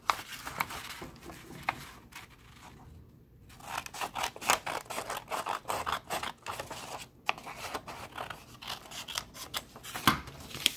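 Scissors slice a sheet of paper in half in a series of close, crisp snips, paper rubbing and crinkling between cuts, a brief pause early on, then steady cutting without speech.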